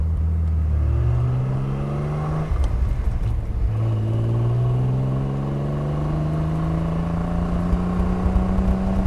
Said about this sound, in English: this car is fun to drive.